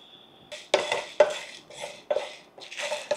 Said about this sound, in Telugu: ఇప్పుడు నేను ధనియాలు వేస్తున్నాను